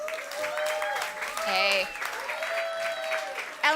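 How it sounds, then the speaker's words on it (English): Audience applause for a panelist being introduced at a climate week panel on the UN and the non-profit sector, steady clapping throughout with voices calling out over it. "Round of applause."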